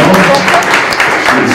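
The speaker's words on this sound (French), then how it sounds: "on peut remercier en applaudissant le quatre" A seated audience at a film screening and debate on urban air pollution applauds the guests and speakers, a loud, dense, sustained clapping that fills the whole moment with faint voices mixed in.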